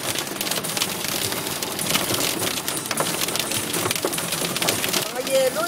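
Hail pelts a moving car in Massena, New York as a dense, steady drumming and crackling that lasts throughout, with people talking over it.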